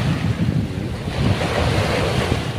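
Waves wash continuously onto the Manila Bay shore, where heavy trash was left behind after Typhoon Carina, a loud, steady roar of surf with wind buffeting the microphone and no voices.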